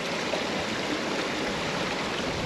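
A small brook flows steadily through Scotland's Atlantic rainforest at Ardnamurchan, a dense, even rush of water close by with no breaks or other sounds.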